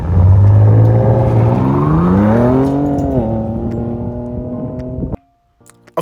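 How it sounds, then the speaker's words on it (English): A 2023 Ford Ranger Raptor's 3-liter V6 turbo petrol engine revs up hard, loud and near, rising in pitch, then falling away before cutting off into near silence. "That is the beautiful sound of a 3-liter V6 turbo petrol engine."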